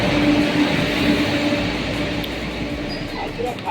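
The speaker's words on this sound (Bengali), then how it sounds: "তার আগে চলে এসছে শিয়ালদা জয়নগর গঙ্গাসাগর এক্সপ্রেস, যেটাকেও 3 নম্বরে দেওয়া হয়েছে।" A Sealdah–Jaynagar Gangasagar Express train pulls into a station platform, a steady low rumble of wheels and carriages with a faint sustained tone running throughout, continuous and fairly loud.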